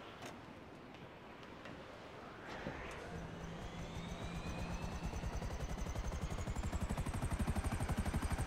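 A GTA 5 helicopter spooling up, rotor chop growing into a fast, loud rhythmic thumping with a rising whine, coming closer and dominating by the end.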